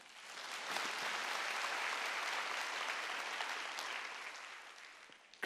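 A church congregation at a pastors' seminary worship service breaks into applause, a broad, even roar of clapping that swells quickly, holds steady for about five seconds, then tapers, heard somewhat distantly with no talking.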